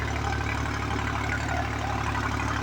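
A tractor engine running in a field during wheat sowing, a steady low idling drone with a constant rhythmic throb, close and unbroken for the whole stretch.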